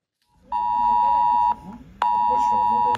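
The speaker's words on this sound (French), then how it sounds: "Une sonnerie reconnaissable et une notification automatique avec un message d'alerte envoyé sur tous les téléphones portables d'une zone géographique" A French cell-broadcast emergency alert sounds on mobile phones in Haute-Marne: two loud, sustained electronic tones, each about a second long, separated by a short gap, with a faint background murmur between them.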